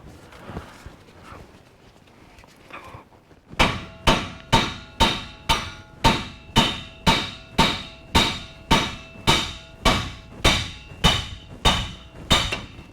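A hammer pounds on the upper control arm of a 2WD Chevrolet Silverado/GMC Sierra pickup, about sixteen loud, evenly spaced metallic blows following a few seconds of quiet.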